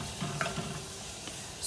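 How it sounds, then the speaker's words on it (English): Onions sauté quietly in a pan, a soft steady sizzle with occasional light stirring scrapes, faint and close, with no talking. "gonna let this saute for a little bit"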